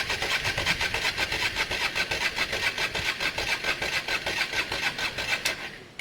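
A Honda Varadero 125 motorcycle cranks steadily for about six seconds during a start-up attempt, a close, rhythmic whirring churn that never catches before cutting off.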